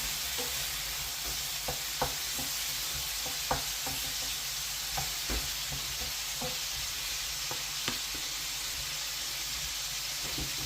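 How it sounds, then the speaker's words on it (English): Pork browning in a hot pan gives a steady close sizzle throughout, with light scraping stir clicks now and then and no voices. "I'll just check the pork. And that's browning nicely."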